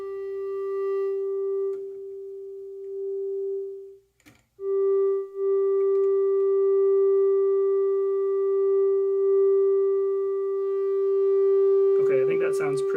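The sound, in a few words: sine wave from Moog Grandmother synthesizer filter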